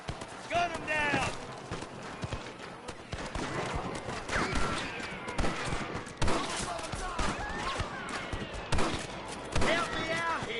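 Rapid bursts of gunfire crack through a Red Dead Redemption shootout with rustler guards, mixed with hoofbeats, shouting and in-game dialogue throughout.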